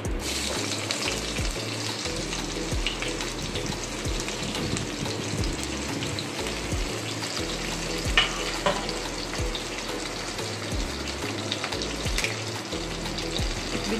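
Onion hitting hot oil already crackling with dried red chilli and cumin, a loud continuous sizzle with scattered pops and a steady low hum underneath, no voices.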